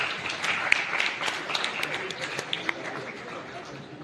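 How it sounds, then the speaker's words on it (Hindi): An audience applauds at a youth summit held at a college in Kashi, with moderate, fairly thin clapping that slowly tapers off and a few louder claps nearby. "क्या बात है, तालियां कमजोर पड़ गई हैं और तेज होना चाहिए"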